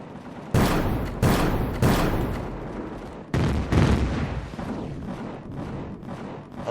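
Ship guns fire in the space game Empyrion in a series of loud sharp blasts: three close together, then a pause and two more, each followed by a rumbling tail and a steady mechanical background.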